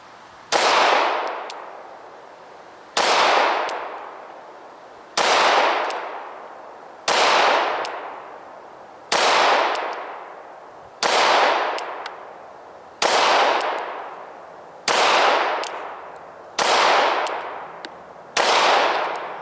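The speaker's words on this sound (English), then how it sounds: "I'm going to start with the Glock, go to the Walther, and then we'll end with the HK VP9." Pistol shots at an outdoor range, fired in turn from a Glock 17, a Walther PPQ and an HK VP9 at steel plates: ten loud, evenly spaced cracks about two seconds apart, each with a ringing steel clang and a decaying echo.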